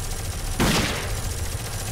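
A defense turret fires in the shooter game Dead Effect: a single short, sharp burst of gunfire over a steady background hum.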